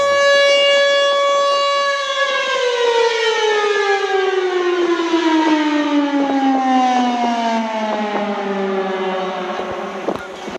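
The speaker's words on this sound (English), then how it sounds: "It would be nice if this siren had the creepy Thunderbolt 1000T roar to it." A Thunderbolt 1000 civil defense siren in Ohio sounds loud and steady, its harmonic-rich wail sliding gradually downward in pitch as it winds down, heard alone with no voices.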